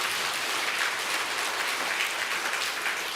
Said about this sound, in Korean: 우리 찬양대원을 이렇게 세워주신 하나님께 박수 한번 올립시다.